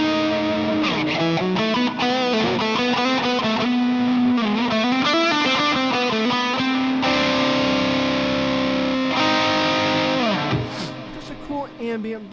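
Electric guitar played through an STL Tonality Andy James breakup clean lead tone, melodic single-note lines with slight grit and sustained bends, loud and continuous, fading near the end.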